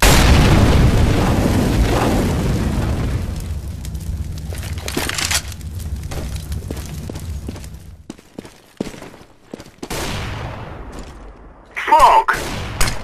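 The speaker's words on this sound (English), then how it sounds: "I'm throwing a grenade! Grenade out! Deploying flashbang." Grenade and flashbang blasts in a multiplayer shooter game: a heavy opening boom that fades into crackling debris, then sharp bursts and pops, a late loud bang, and voices calling out between them.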